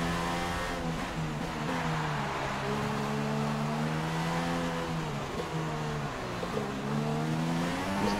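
A Formula 1 car engine in the F1 2016 racing game, a loud continuous high-pitched whine that rises and drops repeatedly through gear changes and downshifts, steady throughout with no talk.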